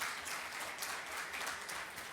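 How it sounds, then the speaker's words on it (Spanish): A conference audience claps together in a dense, even round of applause, faint and distant, sustained throughout. "fuertes los aplausos"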